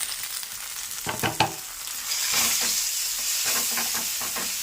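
Crushed garlic fries in a pan for coconut curd pachadi: a fairly close sizzle that starts with a few sharp crackles, then swells into a steady hiss with bursts of spitting.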